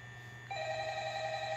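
A telephone rings in a horror video game set at night with a security-camera office, a steady electronic ring starting abruptly partway through and sustaining clearly over a low background hum.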